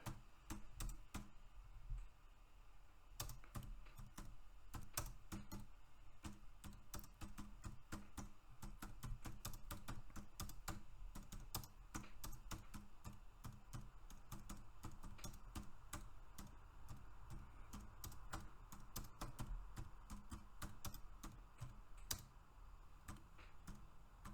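Fingers type on a computer keyboard in a fast, continuous run of soft, quiet key clicks with brief pauses, heard close and alone.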